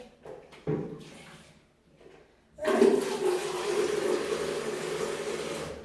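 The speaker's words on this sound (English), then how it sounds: "now the water's going everywhere because I've taken off the nozzle of the tap" Water gushes steadily from a bathroom tap with its nozzle removed, a loud continuous splashing rush spraying everywhere that starts abruptly after a few quieter knocks and clatters.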